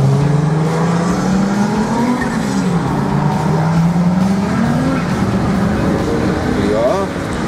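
Audi Pikes Peak race car at an Audi owners' meet in Steinfurt, its engine droning loud and steady with rising and falling revs, mixed with crowd chatter and nearby voices throughout.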